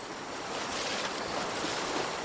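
Rushing water of river rapids in the Amazon rainforest of Ecuador, a steady broadband roar that stays constant and fairly loud throughout, with no voices.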